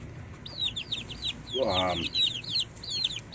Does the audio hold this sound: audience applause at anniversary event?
no